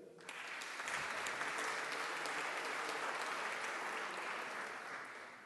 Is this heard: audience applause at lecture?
yes